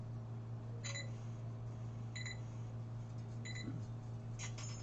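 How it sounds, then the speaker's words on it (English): An alarm beeps in short bursts, four evenly spaced chirps over a steady low hum, fairly faint and with no one talking. "My alarm's going off telling me I gotta eat something."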